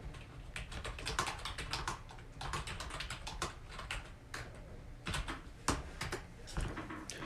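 Rapid typing on a computer keyboard, close and crisp, with bursts of clicking keys and short pauses between runs.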